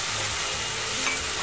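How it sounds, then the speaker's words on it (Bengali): Noodles and water hit a hot frying pan with oil for veg momo filling, giving a loud, steady hiss and sizzle with faint stirring, close up and without talk. "এবার এর মধ্যে নুডলসগুলো দিয়ে দেব আর এতে জল দিয়ে দেব"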